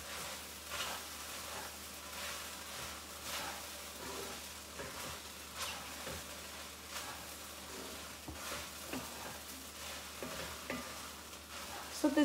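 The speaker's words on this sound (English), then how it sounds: "I'm going to give it a nice stir here." Peanut mixture being stirred in a pan, a soft continuous scraping and faint sizzle with regular stirring strokes; quiet and close, without talk.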